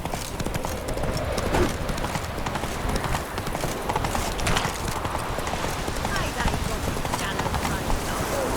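Geralt's horse Roach gallops in The Witcher 3, a rapid, steady clip-clop of hooves running close and continuous beside game music and ambience, with voices talking over parts of it.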